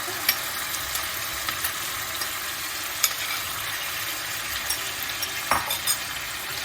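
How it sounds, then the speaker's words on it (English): Beef stir fry sizzles steadily in a hot pan, a dense crackling hiss with scattered pops and occasional scrapes of stirring. "Listen to that sizzle."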